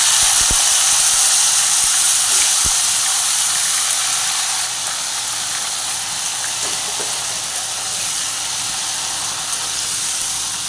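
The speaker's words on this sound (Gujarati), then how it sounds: "આની અંદર હવે આપણે ગુવાર અને બટેકા છે એ એડ કરી દઈશું" Cluster beans and potatoes sizzle loudly and steadily in hot oil tempered with asafoetida, a continuous bright hiss that settles slightly lower partway through, with a few faint stirring clicks.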